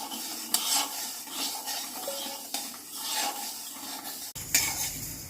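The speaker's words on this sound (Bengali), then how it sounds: "ডালটাকে অনবরত নাড়তে হবে" Moong dal being stirred as it dry-roasts in a hot kadai: a steady scraping, rubbing texture of lentils pushed around the metal pan with a few sharp clinks of the spoon, close and continuous with no talking.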